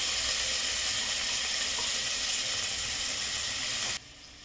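Onions spread out and frying in a pan for egg biryani, a constant close, bright sizzle that runs evenly and then drops sharply quieter near the end, no voices.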